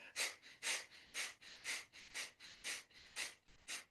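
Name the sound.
breathing in and out through the right nostril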